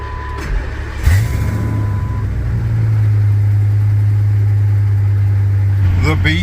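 A V10 pickup truck with almost 300,000 miles starts with a sharp crank and settles into a steady, deep idle, close and loud, with brief beeps near the end.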